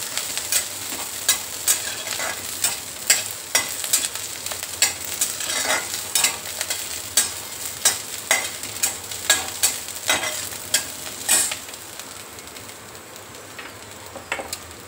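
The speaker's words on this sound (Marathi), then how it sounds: "तेलामध्ये छान परतून घ्यायचं मिरच्या" Green chilies fry in oil under a continuous sizzle, broken by repeated sharp scrapes and clicks of stirring at a fairly regular pace. The stirring stops after about twelve seconds and the frying carries on quietly alone.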